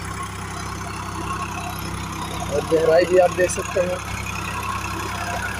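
A Sonalika DI RX 35 tractor engine drones steadily while pulling a 9-tine cultivator, a continuous low rumble with someone talking over it briefly partway through.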